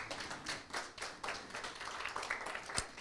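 A church congregation clapping their hands, with repeated claps in an uneven rhythm that swell and fade, and no talk over them.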